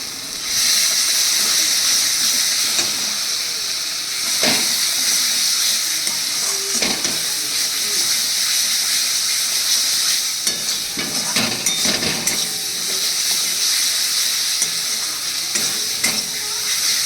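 Water poured into frying masala for a Bengali doi katla (rohu fish in yogurt curry) sets off a loud, steady sizzle and hiss, close up, with occasional clinks and scrapes of stirring.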